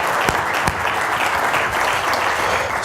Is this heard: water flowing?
no